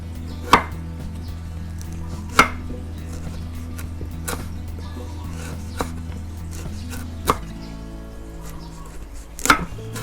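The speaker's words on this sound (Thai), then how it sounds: "ผมจะหั่น ขาก่อนนะหั่นเป็นแว่นๆเล็ก ๆ บางๆ มันจะได้ตำง่ายๆ" A knife chops galangal into thin rounds on a board, giving five sharp, well-spaced knocks over a steady low background hum in a quiet kitchen.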